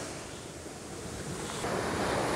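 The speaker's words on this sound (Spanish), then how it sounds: "Mira qué belleza de mar cubano." Sea waves wash onto a Cuban beach with fine sand in a steady broadband roar, growing slightly louder as a wave breaks, with some wind buffeting the microphone.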